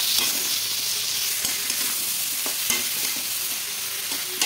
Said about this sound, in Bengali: ঝিঙেটা দিয়ে খুব ভালো করে কষিয়ে নিচ্ছি